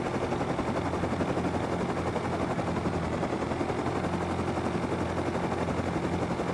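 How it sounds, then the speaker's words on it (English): A helicopter flying in the video game Rust gives a loud, steady rotor and engine drone with a dense, unbroken texture throughout, and no voices. "Chopper coming back in."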